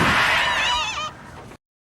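A duck gives a loud, nasal run of quacks lasting about a second, followed by a softer trailing call before cutting to silence.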